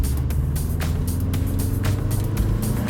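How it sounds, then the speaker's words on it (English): A Subaru WRX with a lightweight crank pulley pulls from 2,000 RPM, its engine a steady droning roar heard from inside the car as the turbo spools up, continuous and fairly loud with no one speaking. "There's the turbo."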